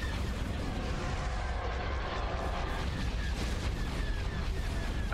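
Torpedoes being intercepted in the space battle game Star Wars Empire at War, a dense, continuous roar of explosions and weapon fire filling the whole stretch, loud and unbroken.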